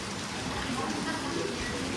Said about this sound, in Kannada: ಮಳೆ ಅಂದರೆ ಮಳೆ ಸುರಿತಾ ಇದೆ